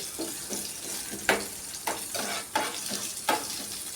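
Curry leaves and green chillies fry in hot oil, a steady sizzle broken by several sharp crackling bursts and stirring scrapes at close range, with no voices.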